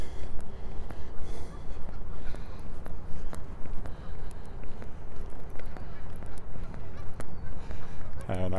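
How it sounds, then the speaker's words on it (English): Goslings and geese honk repeatedly at a lake on a chilly morning walk, close and fairly loud amid wind and footsteps, with a person talking over them. "More goslings."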